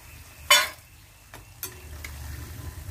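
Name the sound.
pakkavada frying in oil and being scooped out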